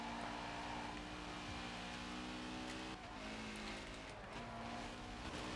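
A Porsche 356 RSR race car launches in Forza Horizon 4, its engine a loud, steady droning roar with pitch shifts as it revs and changes gear, heard alone.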